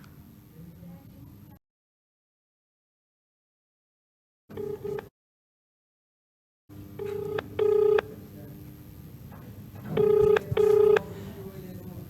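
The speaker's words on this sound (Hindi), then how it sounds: "इस मामले पर हम लगातार पुलिस अधीक्षक हाथरस को फ़ोन भी मिला रहे हैं" A telephone number is dialed, with short bursts of keypad tones separated by silent gaps and then two clusters of stacked dialing beeps over a steady line hiss.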